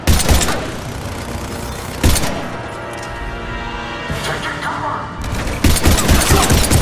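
Gunfire from the video game Mass Effect 3: loud bursts of shots open the clip, return around two seconds in and pick up again near the end, with game voices and combat noise in between.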